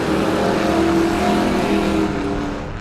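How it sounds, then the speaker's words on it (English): Race cars roar in a dense pack at Lee USA Speedway, a loud continuous engine drone sweeping through the turns with no break and easing slightly at the very end. "19 cars out on the racetrack here, down through turns 3 and 4. Green flag is out, and we are racing at Lee USA Speedway"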